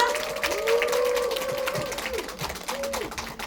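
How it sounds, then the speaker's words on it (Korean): An indoor audience at a product lecture claps in welcome for the speaker, a steady, moderately loud patter with music tones faintly underneath. "우리 오세정 강사님 큰 박수로 맞이해 보도록 하겠습니다"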